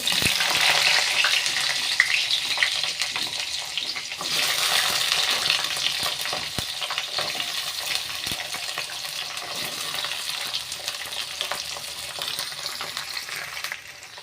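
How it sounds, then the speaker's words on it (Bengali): Nigella seeds crackle and sizzle in hot oil, a dense, continuous spitting that starts strongest and settles into a steady fry for about fourteen seconds, close and with no talking. "তেল গরম হয়ে গেছে এবার আমি কালো জিরে দিয়ে দেব"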